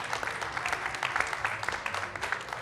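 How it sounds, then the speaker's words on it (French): An audience applauds a guest on a political quiz show, a dense, continuous wash of clapping from a crowd with a low hum beneath it, steady from start to end. "Et je vous demande d'applaudir Nicolas Sansu"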